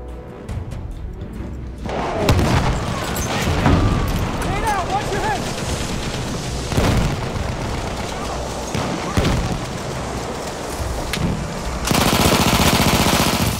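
Artillery barrage in a shooter video game: dense rumbling booms and rapid gunfire crackle for many seconds, loud and chaotic, with a voice talking over part of it.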